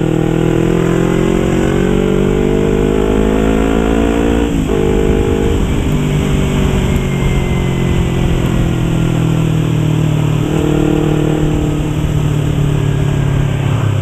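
A loud, close engine of a 2015 Yamaha YZF-R25 250 cc sport motorcycle hums steadily while riding, with gear shifts marked by sudden pitch drops and rising revs between them.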